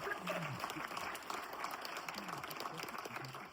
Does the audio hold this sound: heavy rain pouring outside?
no